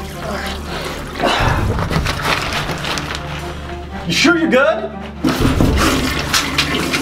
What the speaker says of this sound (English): it just keeps flushing